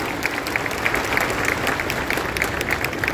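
An audience at an official ceremony gives a steady round of applause, thick and continuous for a few seconds.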